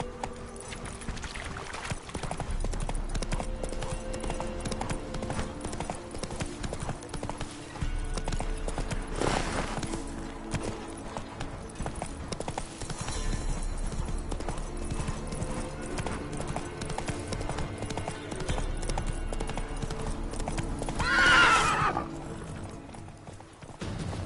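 Roach, the horse in The Witcher 3, gallops along with a continuous rhythmic clip-clop of hooves, steady and fairly close, with a brief whinny near the end.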